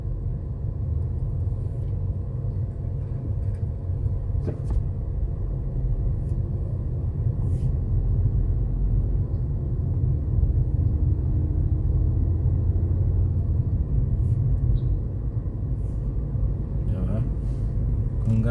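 Road traffic rumbles continuously at a jeepney loading area on a university campus in the Philippines, with engines idling and passing vehicles under a steady low roar, punctuated by a few faint clicks and knocks.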